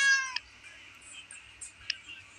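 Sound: cat meowing

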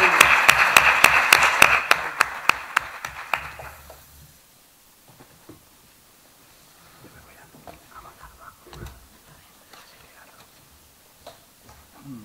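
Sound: conference audience applause

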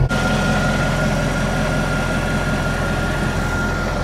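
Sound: Mercedes S63 AMG engine starting and idling

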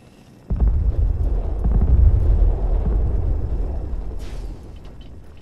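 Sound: explosions in video game Fallout 4

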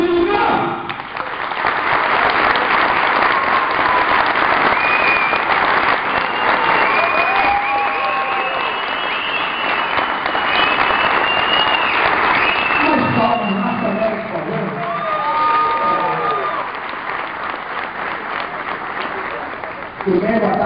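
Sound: audience applause and cheering

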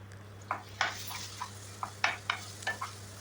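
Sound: frying red chillies and curry leaves in oil

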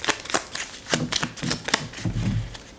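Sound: shuffling Scott Pilgrim card game decks

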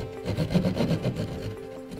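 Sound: saw cutting drywall hole for light switch box

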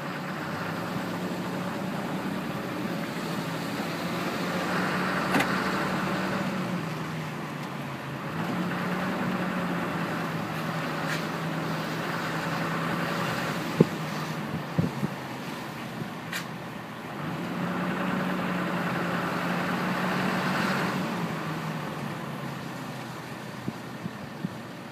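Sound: 2010 Dodge Ram 3500 Laramie truck driving

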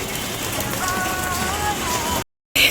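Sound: rain falling

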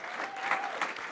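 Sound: congregation clapping for Jesus

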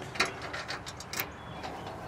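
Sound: unlocking the hood of a Sany SY35U mini excavator with key

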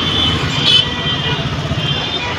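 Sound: street traffic vehicle noise

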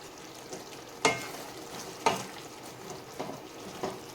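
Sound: fresh curry leaves added to tomato gravy (thakkali kulambu)

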